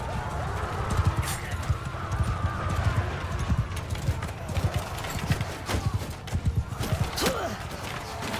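Horses galloping in the video game Mount & Blade II: Bannerlord, a dense run of hoofbeats with an occasional whinny, heard amid battle clamor and shouted commands.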